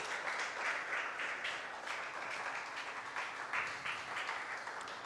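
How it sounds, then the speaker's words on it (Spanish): A church congregation claps and applauds steadily, a dense wash of hand claps with no voices standing out. "Dele un aplauso al Señor, por favor."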